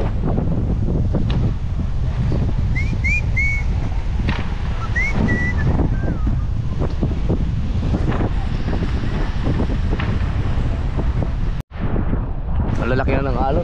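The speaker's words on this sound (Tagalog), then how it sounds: "Lalaki na ng alon." Heavy wind buffeting the microphone and big waves crashing around a small boat caught in a storm at sea, a loud constant roar with surges of water. Brief shouted voices cut through, and the sound drops out for a moment near the end.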